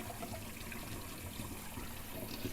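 Black rice being rinsed in water before cooking gives a faint, steady trickle and swish of water throughout, with no voices.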